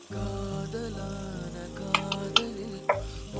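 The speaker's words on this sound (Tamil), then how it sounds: "அடுப்பை சிம்மில் வச்சுட்டு இதை ஒரு முப்பது செகண்ட் வதக்கி விட்டுக்கலாம்" Spice masala of turmeric and sambar powder sautés with tomatoes in a pan for karamani kulambu, giving a steady close sizzle and frying hiss, with a few quick spoon scrapes and clinks as it is stirred.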